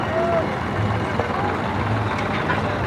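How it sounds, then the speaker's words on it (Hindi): A turbocharged New Holland 3630 tractor drones with a steady low engine rumble during a tractor pulling contest against an Arjun 555, heard under outdoor commentary and crowd noise. "ट्रैक्टर ने भी धुएंधार रखे पूरे बहुत ही तगड़ा चला"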